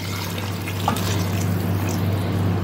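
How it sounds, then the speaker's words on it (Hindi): Yakhni stock steadily poured into a pot for aloo yakhni pulao, a continuous watery rush under a low steady kitchen hum, with no talk. "अब यखनी चली जाएगी, ये मेजर करके रखी हुई है, ये चली जाएगी।"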